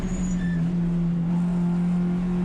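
A BMW race car's engine drones loudly and steadily on track as it closes in to pass, a sustained even tone with little change in pitch.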